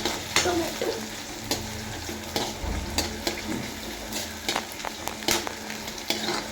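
Curry leaves sautéing in a pan with onion, a steady low sizzle broken by repeated sharp clicks and scrapes of a spoon stirring against the pan, with no talking.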